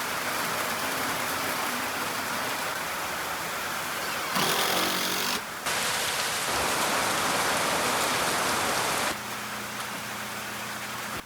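Pouring rain drums steadily and loudly on surfaces around a chicken run under construction, a dense continuous wash of noise with a brief gap near the middle and no voices.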